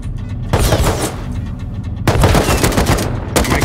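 Video game gunfire from a military battle, with bursts of rapid automatic shots starting and stopping in several volleys, loud and close.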